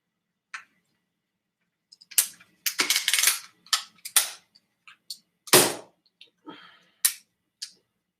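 A bootleg BB gun pistol's action is cycled by hand, giving a series of sharp, close metallic clicks and snaps in irregular bursts separated by silence.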